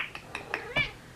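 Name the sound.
cat meowing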